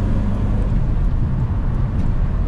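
Tuned Honda K24 engine with a coolant leak, roaring loudly and steadily at high revs in a dense continuous drone, heard alone without talk.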